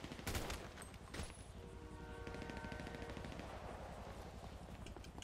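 Rapid gunfire in the GTA V FiveM roleplay game during a zombie deathmatch, sustained bursts of automatic shots rattling loudly and continuously, with a heavier blast near the start.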